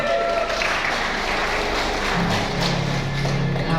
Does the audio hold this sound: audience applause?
yes